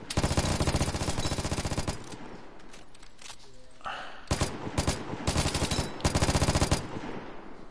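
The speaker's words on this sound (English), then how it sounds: "These guns are big." Heavy automatic gunfire from large weapons in the video game Vigor, loud rapid bursts in several separate volleys with a quieter gap partway through, over faint game background noise.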